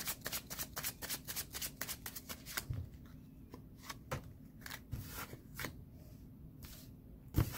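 Tarot cards are shuffled close up, with a quick run of rapid riffling flicks followed by slower, scattered slides and taps. The sound is quiet and no voice is heard.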